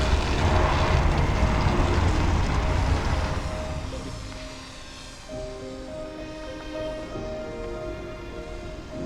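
Aircraft engine running before takeoff, a loud broadband roar that fades after a few seconds into a steadier humming drone with a tonal whine, close by and without talk.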